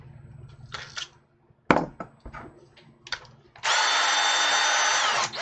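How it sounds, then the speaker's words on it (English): Short clicks and brief whirring bursts give way to a loud, sustained high-pitched drill whine lasting nearly two seconds, close up. "So what we can do, get our drill out"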